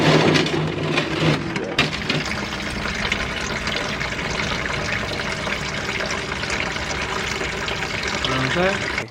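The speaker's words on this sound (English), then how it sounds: "Didn't think that it would drain from 3 different places" Coolant pours and splashes steadily out of a Honda S2000 cooling system during a flush, a continuous close-up liquid rush that lasts throughout, with a brief voice early on.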